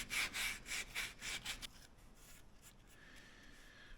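A diamond willow walking stick is sanded by hand with 80-grit sandpaper in about six quick rasping back-and-forth strokes, close and crisp, then the scraping fades into quiet room tone.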